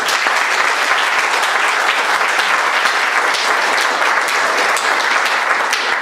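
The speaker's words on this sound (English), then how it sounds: "You guys give them a round of applause." Loud, sustained applause from a crowd at an induction ceremony, dense clapping continuing steadily from start to finish without pause.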